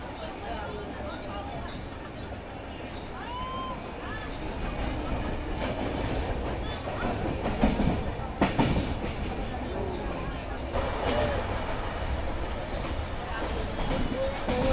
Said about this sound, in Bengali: তো চলো, সিগন্যাল হয়ে গেছে, উঠে পড়ে ট্রেনে।